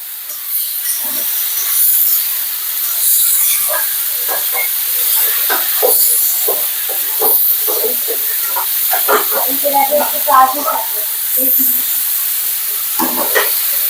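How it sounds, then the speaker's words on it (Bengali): Sliced onions with green chili, turmeric and salt fry in a pan, a loud, close, continuous hiss dotted with crackles and the scrape of stirring. "পেঁয়াজ দিয়ে দিলাম কাঁচামরিচ পেঁয়াজ হলুদ লবণ দিয়ে ভেজে নেওয়া হচ্ছে"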